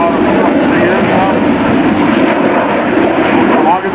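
A CF-18 Hornet jet flies during an airshow, its loud, steady engine roar filling the whole stretch while people talk underneath.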